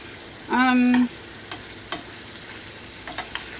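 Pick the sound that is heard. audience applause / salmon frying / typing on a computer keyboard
salmon frying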